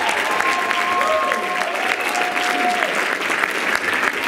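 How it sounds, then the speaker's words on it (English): Church congregation applauding steadily to welcome a preacher, dense sustained clapping filling the room with a few sustained organ or keyboard tones beneath. "Put your hands together and welcome the man."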